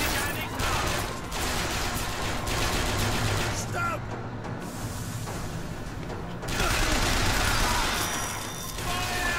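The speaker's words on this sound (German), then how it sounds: "So, wechseln wir auf unser Maschinengewehr, denn wir haben's ja." Automatic gunfire from a machine gun in BioShock Infinite, bursts of rapid shots that rise and fall loudly across the scene, with someone talking over the action.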